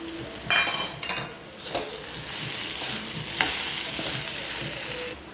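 Plantain poriyal with coconut is stirred in a frying pan, a continuous sizzle with repeated scraping strokes of the spoon, a cluster early on, then further scrapes against the pan, close and clear.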